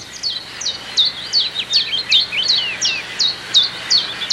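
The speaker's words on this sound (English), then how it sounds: "The chirper is the chiff-chaff." Repeated sharp, high bird chirps of a chiffchaff, sounding in a quick steady series of about a dozen notes over faint background hiss.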